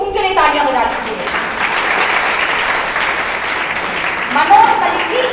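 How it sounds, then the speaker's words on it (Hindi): Seminar audience claps for a named upline member, a steady wash of applause filling the room for several seconds with voices mixed in. "मनोज मलिक जी, उनके लिए तालियां बजा दीजिए"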